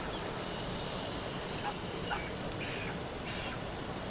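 Ducks in a farm duck pen quack several times at moderate distance, the calls spaced across a few seconds over a steady hiss from grass being watered.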